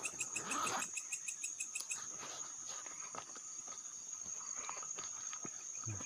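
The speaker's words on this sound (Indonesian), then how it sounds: "Ada suara katak." Frogs and insects call at night beside a small forest stream, a dense faint chorus of chirps and croaks with soft rustling footsteps and no voices.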